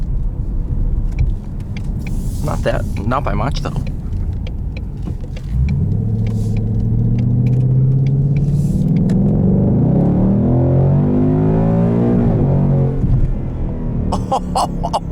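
Track-mode exhaust on a 2020 Ford Mustang GT Performance Package automatic rumbles loudly throughout, with a deep rising and falling drone as the V8 revs, heard from inside the car with a brief spoken remark.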